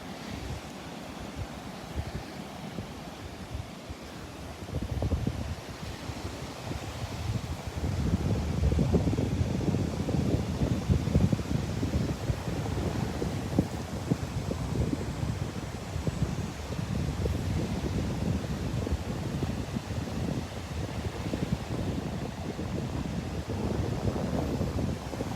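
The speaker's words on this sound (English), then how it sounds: "Nice little breeze blowing out here." Breeze blowing on the beach at Delnor-Wiggins Pass in North Naples, Florida, a continuous gusty rumble against the microphone mixed with surf, swelling after the first few seconds and staying steady.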